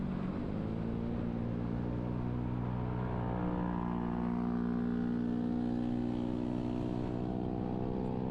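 A motorcycle engine drones steadily and loudly throughout, its pitch rising and holding as it speeds along an empty road, without any voices.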